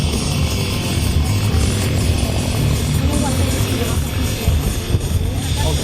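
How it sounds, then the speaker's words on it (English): A P-51 Mustang propeller engine warms up at an air show, producing a loud, steady, droning roar that holds throughout. A voice talks over it. "that P-51's got to warm up just a little bit"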